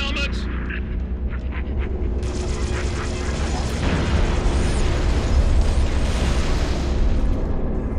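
A heavy, rumbling explosion in Halo: Reach swells and sustains, with a low roar and crackling debris, loud and close, with a voice talking underneath.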